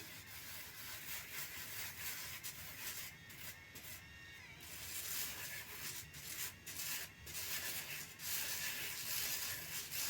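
Steady buzzy scrubbing and rubbing of a Philips electric sneaker brush against a shoe, continuous and close, growing slightly louder partway through.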